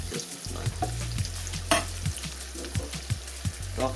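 Leftover turkey seasoned with chili powder sizzles in a frying pan while a utensil stirs it, scraping and clacking in an irregular rhythm over steady frying, with a low musical drone beneath.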